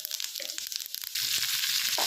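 Mustard seeds, peppercorns and cumin sizzling and spattering in hot ghee and oil, close and steady, with a sharper burst of frying as the spices hit the pan partway through.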